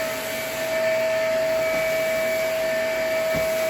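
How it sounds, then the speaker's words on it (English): A vacuum cleaner runs steadily while cleaning dirty rugs and floors indoors, a continuous close motor drone with a strong steady whine and faint shifts as the head moves, no talking. "And right here I'm just vacuuming,"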